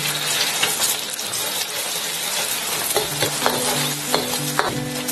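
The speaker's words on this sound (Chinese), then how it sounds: "油热后下入鸡蛋炒散" Two free-range eggs stir-fried and scrambled in hot oil in a wok, with steady close sizzling and repeated scraping strokes of a spatula throughout, no voices.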